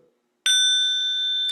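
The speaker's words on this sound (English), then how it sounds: "So we wake up the bell with just a gentle wake up" A meditation bell at a yoga retreat is struck once, giving a clear, sustained ringing tone that holds steady and rings on alone after a faint murmur beforehand.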